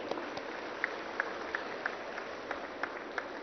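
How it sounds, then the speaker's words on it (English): Faint, thin applause from an audience at the inauguration of a green property show in Hyderabad, a steady patter of clapping with a few sharper claps standing out, heard from a distance. "we need to have a serious clap for all this activity"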